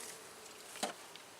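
Honeybees buzz at a hive holding a newly introduced queen, a faint, steady hum drifting close by with one brief louder pass of a single bee.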